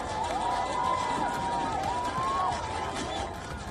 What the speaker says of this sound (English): They gathered around an open fire, singing and dancing in defiance.